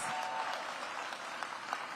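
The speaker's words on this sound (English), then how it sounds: "Please give Dr. Mitchell a big round of applause." Audience at a DC mayoral press event applauding an education superintendent, soft, fairly distant clapping that holds steady for a couple of seconds.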